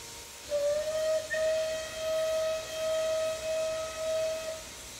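A Merchant Navy Class steam locomotive whistle in Train Simulator 2020 blows one long, steady shrill tone for about four seconds, slightly wavering, with faint hiss in the background and no talking.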